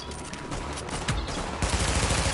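Rapid bursts of video game gunfire, dense fusillade-like shots firing continuously at close range for a couple of seconds, loud and unbroken by talk.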